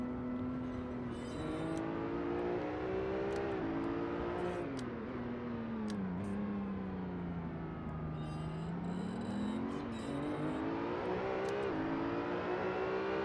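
Porsche GT1 race car in Assetto Corsa, its engine droning steadily and loudly throughout, pitch rising and falling with speed changes and brief shifts, with no voices over it.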